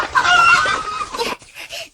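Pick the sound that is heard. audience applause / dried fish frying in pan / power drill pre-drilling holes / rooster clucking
rooster clucking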